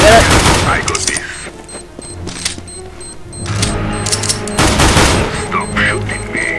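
Rapid bursts of gunfire from the video game Counter-Strike during a bomb-defusal round, loud and close, with a dense volley at the start, scattered shots through the middle and another heavy burst near the end, with a player talking over it.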